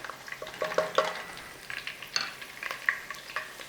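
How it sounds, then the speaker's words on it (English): Curry leaves and onions sizzle in hot ghee over a high flame, a soft crackling fry punctuated by quick stirring scrapes and small pops, close and fairly quiet. "There's some curry leaves. Nice little sizzle on there,"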